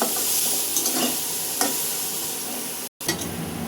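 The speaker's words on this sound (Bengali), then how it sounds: "পেঁয়াজ লাল লাল করে ভাজা নিলাম, সাথে সব মশলাটাই একটু ভাজা দিলাম।" Steady, crackling sizzle of onions and spices frying in a pan, with occasional scraping stirs and a brief drop to silence near the end.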